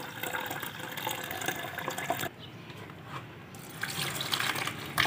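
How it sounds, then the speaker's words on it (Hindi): Water poured into a beaker during gold recovery from RAM and BGA chips, a steady splashing trickle with a brief quieter dip midway, close and moderate in level, no voices. "एक्स्ट्रा पानी डाल रहे हैं।"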